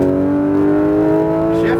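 A Porsche GT3 RS engine on a race track drones loud and steady from inside the car as the throttle is squeezed, a rich held tone that starts to climb right at the end.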